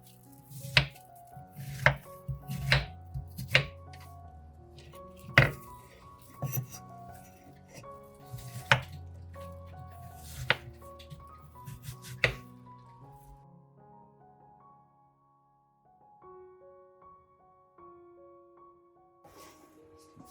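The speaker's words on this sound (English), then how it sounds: "cut the melon into small pieces." Knife chopping watermelon into small pieces on a board, a run of sharp close thuds at a steady rhythm that stops partway, followed by quieter scraping and handling with no talking.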